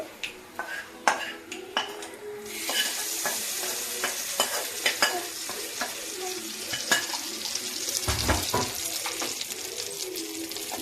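Spiced tempering (popu) for a chutney sizzles hard in a small pan, opening with sharp metallic taps and spoon clinks, then a loud sustained crackle, with utensils scraping and clattering throughout.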